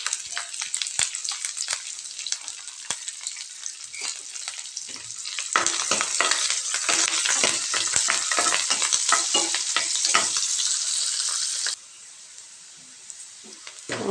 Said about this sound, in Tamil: வெங்காயம் நல்லா வதங்கி வந்துருச்சுங்க